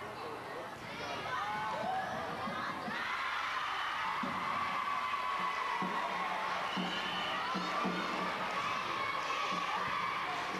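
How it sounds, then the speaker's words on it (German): Loud school fan club at a volleyball schoolgirls' league match, a dense crowd roaring and cheering continuously with voices shouting, drum beats thumping steadily beneath the noise. "Und hier der lautstarke Fanclub des BAG mit den Trommeln."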